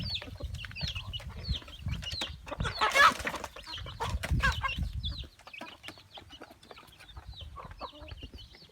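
Chickens cluck repeatedly nearby, short clipped calls scattered over a low rumble of background noise, with a brief louder squawk in the middle.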